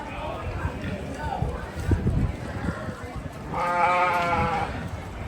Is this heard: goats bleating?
yes